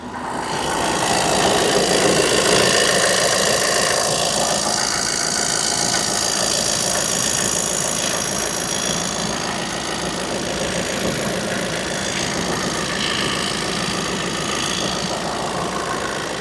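A 2018 Volkswagen T6 van engine, Euro 6, idling steadily up close, a constant low rumble with a faint knocking vibration running evenly throughout, no voices.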